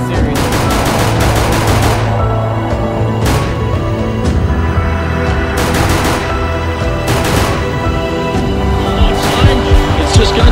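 Rapid bursts of rifle fire crack out in a CS:GO match, several sharp volleys spread across the stretch under an excited commentator's continuous talk.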